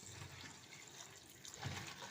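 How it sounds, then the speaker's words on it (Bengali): Pump-fed tap running water at home, a faint steady gush and splash heard close by, with a slightly fuller splash near the end and no voices. "দেখো কলটা একটু জোরে করতে হবে, মানে কলটা চালিয়ে যেতে বেটা, পাম্পটা চালিয়ে যেত"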